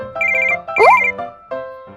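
A melodic phone ringtone plays loudly and alone in a toy doll family home scene, with repeating tonal phrases, a bright rising swoop in the middle, and a short pause before the melody resumes.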